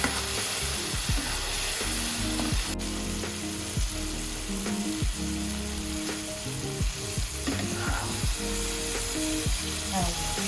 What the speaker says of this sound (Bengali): দিয়ে এটাকে ভালো করে কষিয়ে নিব।